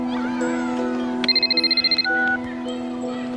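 A telephone rings with a short burst of rapid electronic trills, clear over steady background music and a faint hum in a children's play setting.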